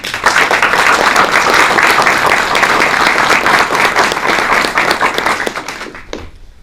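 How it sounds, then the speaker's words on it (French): Sustained audience applause at an archery blessing ceremony, dense and steady clapping from a sizable crowd that carries evenly for several seconds before tapering off abruptly. "On peut également l'applaudir."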